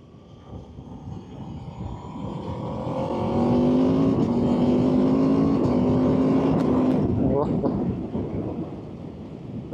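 An Aprilia RSV4 1100 Factory motorcycle engine revs up through the gears under load, its tone climbing and dropping with quick, clipped shifts before fading away, loud and close with rushing wind.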